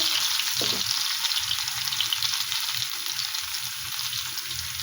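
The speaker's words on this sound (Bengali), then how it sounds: "দেখো এই আলু ভাজা হচ্ছে।" Potato pieces fry in oil in a pan, giving a steady, close sizzle that holds at an even level throughout, with no talking.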